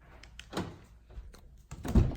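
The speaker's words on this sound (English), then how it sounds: "It has to do with the fuel door. So let me open it up here." A quiet click and thunk of the fuel door popping open on a 2019 Honda Pilot, followed by a louder thump near the end, close by with faint background hum.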